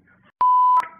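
A phone gives a single steady electronic beep as a message is sent, lasting under half a second and standing out clearly against near silence.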